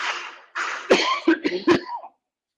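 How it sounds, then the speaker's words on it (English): A person coughs several times in a quick cluster of harsh, close bursts with a bit of throat clearing, then goes quiet, at a classic car festival by a race track. "Are you coughing because of the fumes of the vehicles that are going around the track?"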